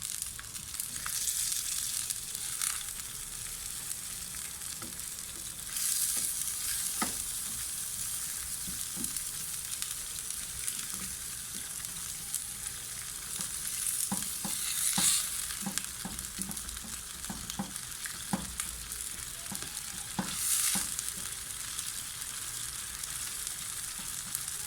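Beef pieces with meat tenderizer powder are stirred and fried in a pan, a continuous sizzle broken by repeated scraping and clinking strokes of the spoon, with no talk.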